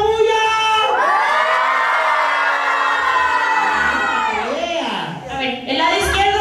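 A crowd of children at a birthday party shouts and cheers together in one long, loud sustained roar, then breaks into scattered whoops and calls, close and lively.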